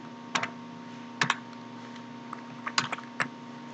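Code being typed on a computer keyboard in VS Code, with short bursts of close, crisp key clicks separated by brief pauses over a faint steady hum.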